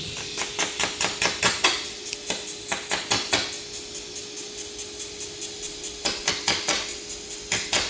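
A DC inverter TIG torch with a pure tungsten electrode runs a sputtering arc, giving rapid, regular crackling pops over a steady faint whine, close and fairly loud, with no talking.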